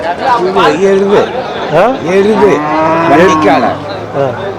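Cattle low repeatedly at a busy Wednesday livestock market in Namakkal, loud and close, one long moo after another over a steady murmur of crowd chatter.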